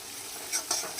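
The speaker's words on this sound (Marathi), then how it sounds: "असं परतून घ्यायचं व्यवस्थित" Spices such as turmeric and coriander-cumin powder being stirred in hot oil in a pan, soft scraping strokes in a few brief bursts over a faint sizzle, close and quiet with no talk.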